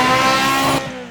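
A 1995 Ferrari F355 Challenge race car with a high-revving 3.5-liter V8 exhaust screams loudly at high revs with a rich harmonic tone, then drops abruptly as the throttle closes.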